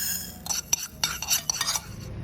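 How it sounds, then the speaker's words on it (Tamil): Horse gram dry-roasts in a kadai, with a close run of rattling, scraping stirring strokes that come in irregular bursts and quiet gaps between them, and no voices. "ஒரு கடாயில் கொள்ளு சவுக்க வறுத்துங்கோ."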